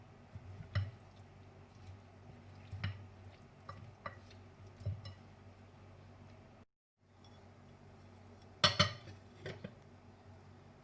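Chicken wings being mixed by hand or spoon with a marinade of finely chopped green chilies in a bowl: soft wet squishing and stirring with occasional clinks against the dish, close and fairly quiet, briefly cut off partway through.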